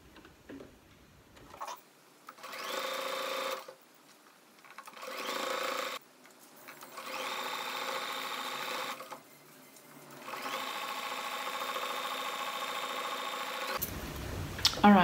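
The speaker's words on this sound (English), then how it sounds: "you can put your machine onto a small zigzag stitch so they can actually help with the elastication, and pull as you're going along" Sewing machine running a small zigzag stitch along an elastic waistline of a jumpsuit, in several steady mechanical bursts separated by brief pauses, close and moderately loud with no talking.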